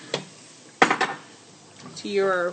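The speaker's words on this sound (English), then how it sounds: "I'm pouring in my milk very slow and steady, and I'm still whisking" Metal whisk scraping and clinking against a hot pot as milk is poured into a roux for mac and cheese, a few sharp clatters then steady stirring, close, with a voice speaking briefly.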